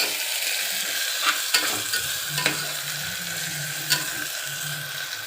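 Onions frying in hot oil for mutton biryani, a dense, steady hiss and crackle filling the clip, with a few light stirring taps and scrapes over it, close and continuous, no talk.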